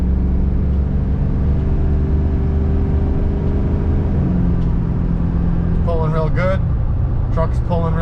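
Pickup truck towing a trailer rolls along with a steady low engine rumble and road noise from inside the cab, smooth and even throughout, with someone speaking briefly near the end.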